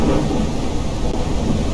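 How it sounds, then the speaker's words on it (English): Thunder in the farming game Ranch Simulator booms loudly, a dense low rumble with rain hiss that stays steady and overwhelming for the short stretch, with no talking over it. "I think it's because the thunder's really loud"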